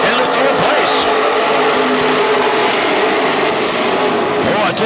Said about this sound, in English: Gullickson and Kraus side by side down that back chute into turn 3.